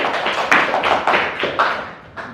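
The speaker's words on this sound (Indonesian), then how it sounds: "Beri tepuk tangan." A class of students in an Indonesian school lesson clapping for a student group, a few crisp, rhythmic bursts of clapping in unison, moderately loud and close.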